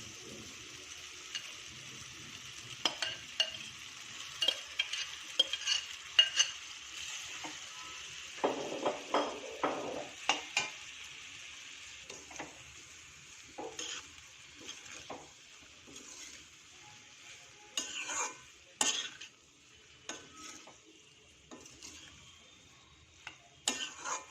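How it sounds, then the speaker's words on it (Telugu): Drained homemade pasta going into a pan and being stirred through the mixture: intermittent clattering scrapes and taps of a spoon against the pan over a faint sizzle, close and unaccompanied by talk. "ఇప్పుడు డ్రైన్ చేసి ఉంచుకున్న పాస్తా ఇందులోకి వేసుకోవాలి."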